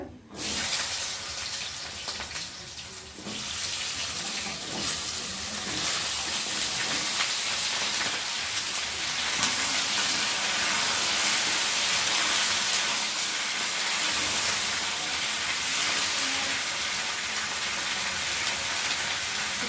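Taro and potato pieces fry in a pan, a loud steady hiss of sizzling oil that swells after a few seconds and holds without break.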